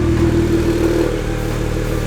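A BMW E90 with exhaust cutouts, valve open, runs with a loud, steady engine drone from the exhaust, close up and without speech over the short stretch.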